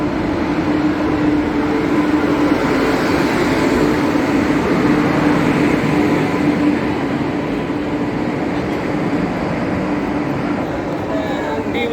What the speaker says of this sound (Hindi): अच्छा, और ये हमारी ट्रेन आ गई।